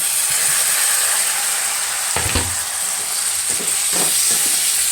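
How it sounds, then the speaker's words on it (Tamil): Tomatoes tipped into onions already frying in a home kitchen pan, with a steady loud sizzle throughout and a few bursts of stirring and clatter partway through. "வெங்காயம் விதங்கிருச்சு இப்போ தக்காளி போட்டுடலாம்"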